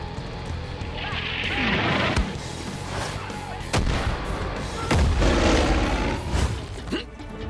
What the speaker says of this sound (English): I'm going to mark this target for Nick's flyby bombing run.